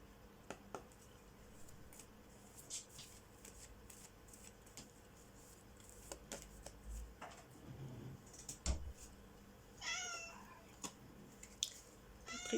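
A small cat gives a few faint, short meows in a quiet indoor room, with soft rustling and tapping sounds around them and no talking.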